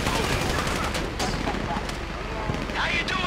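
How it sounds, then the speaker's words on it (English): Rapid gunfire rattles continuously in GTA V, dense bursts of shots layered with booming blasts, loud and close throughout with a voice briefly heard amid the shooting. "You hear that gunfire?"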